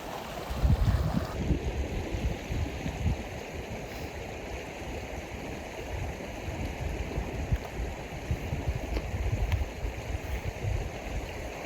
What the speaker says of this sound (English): Got this beautiful, beautiful creek rolling through the meadows here